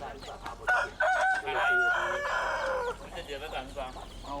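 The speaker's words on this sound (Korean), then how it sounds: "집에서 기르던 닭을 잡고 있다" Household chickens cluck and squawk loudly and close up as they are caught by hand, with agitated repeated calls and a crowing-like cry amid rustling.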